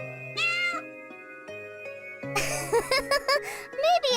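A cat in the video game Umbraclaw meows once, then gives a series of short, clear meows close up over a soft sustained musical backing.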